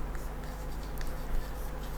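Pen scratching on paper while working an accountancy sum, soft continuous writing strokes up close over a low steady hum, no speech.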